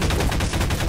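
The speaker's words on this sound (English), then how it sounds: "Pulse rifle." Pulse rifle fire in the video game Garry's Mod, a dense rapid stream of loud automatic shots lasting about a second.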